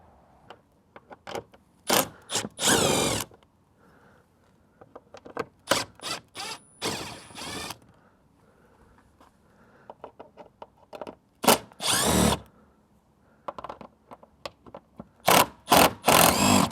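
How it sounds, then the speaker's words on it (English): A power drill backs out several 10 mm screws from the engine air filter cover on a 2022 Ram 1500, giving short, close whirring bursts in an irregular series, separated by quiet handling clicks and rattles. "We've got 1, 2, 3, 4, 5, give or take, 10 millimeter screws to take out."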